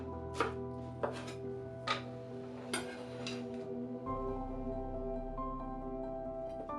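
A knife chops green onion tops into rings on a cutting board, about seven crisp, evenly spaced close taps followed by a steady low hum.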